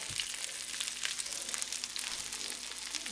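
Meatballs frying in butter in a pan, a steady close crackling sizzle with dense spitting pops that continue evenly throughout, with no talking.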